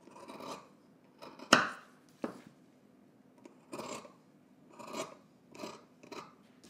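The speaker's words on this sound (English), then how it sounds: "Trim some of the seam allowance here in the center." Scissors snip through the seam allowance of a garment being sewn from a Simplicity 9945 pattern, a few separate crisp cuts with quiet rustling of fabric between them, close and fairly soft, no talking.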